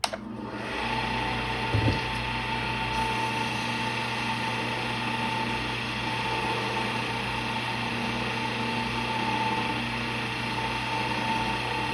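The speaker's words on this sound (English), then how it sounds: "You're just going to let the micro mesh do the work." Walnut pen blank spinning on a lathe while micro mesh pads sand it, a steady continuous whirring motor drone with a soft friction hiss, constant and fairly loud throughout.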